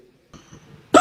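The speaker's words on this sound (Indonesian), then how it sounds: "Batuk dulu." One sharp cough bursts out near the end after a quiet breathy pause, loud and close to the microphone.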